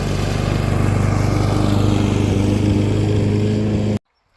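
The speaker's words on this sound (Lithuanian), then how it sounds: "lekiu šienaut toliau" A grass mower's engine drones loud and close at a steady pitch with a rapid pulsing beat, then stops abruptly near the end.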